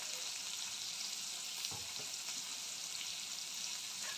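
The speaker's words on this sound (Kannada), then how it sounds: "ಕ್ಯಾಪ್ಸಿಕಮ್ ಎಲ್ಲ ಎಣ್ಣೆಲಿ ಚೆನ್ನಾಗಿ ಕರಿದಿದ್ದೀನಿ ನೋಡಿ ಈ ರೀತಿ" Capsicum frying in oil gives a steady, soft sizzle throughout, with a faint stir or scrape partway through.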